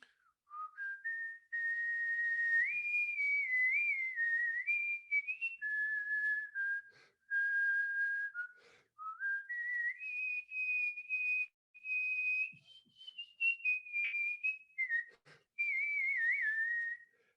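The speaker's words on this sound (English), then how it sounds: "whistling helps if you can whistle. So if I was to whistle," A person whistling a sustained, clear melodic line in short phrases that step up and down in pitch, with brief breath gaps between phrases, close and alone.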